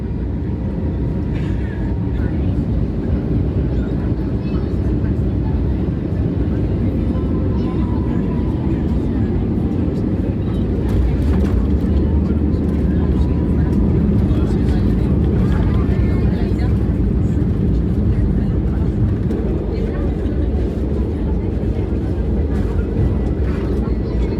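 Iberia Airbus A320neo landing at Barcelona El Prat airport, heard from inside the cabin: a loud, continuous deep rumble and roar of engines and airflow that stays steady throughout, with some muffled cabin sounds.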